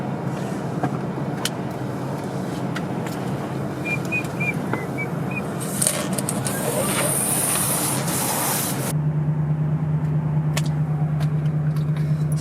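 A car engine idles steadily while warming up, a continuous low rumble with some hiss, settling into a smoother drone partway through; a voice speaks briefly.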